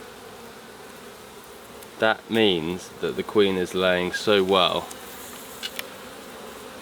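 Honey bees humming steadily around an open beehive, a soft continuous drone under a close voice talking over much of it.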